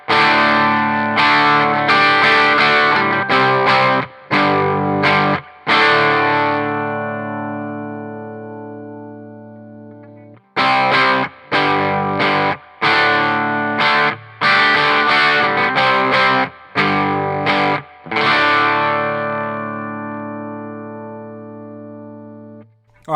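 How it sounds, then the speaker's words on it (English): An electric guitar played through a Pro Co Rat distortion pedal at low gain strums sustained chords and short phrases that ring out and decay, in two similar passages separated by a brief gap. "Let's go ahead and bring up the distortion just a little bit."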